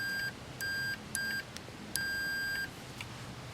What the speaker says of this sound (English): This one has a beeping tone, which is kind of nice.